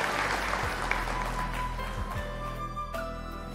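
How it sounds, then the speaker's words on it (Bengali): Audience applause at the Radhuni Kirtimoti award ceremony in 2010, a steady dense clapping wash sustained through the whole stretch at moderate loudness, with no voices rising above it. "আমরা একটু জোর করতালি দিয়ে শুভেচ্ছা জানাতে চাই"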